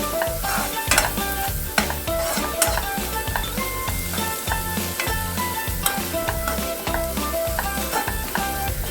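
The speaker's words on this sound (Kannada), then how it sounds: "ಹಸಿ ವಾಸನೆ ಹೋಗೋವರೆಗೂ ಫ್ರೈ ಮಾಡ್ಕೊಳ್ಳೋಣ." Ginger garlic paste and onion sizzle loudly in a pan for masala egg curry while a spoon stirs steadily with rhythmic scraping clinks, close and continuous with no talking.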